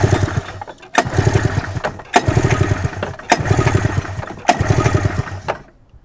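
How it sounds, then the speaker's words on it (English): A 1986 Arctic Cat El Tigre 530 snowmobile engine cranks over during a compression test in rhythmic chugging bursts, stopping and restarting four times, loud and close with no talk. "We're going to do a compression test on the PTO side."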